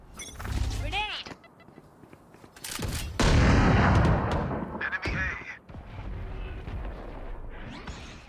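Loud gunfire and a grenade blast in a competitive video game, with booms and bursts of shots close up while players talk over the action.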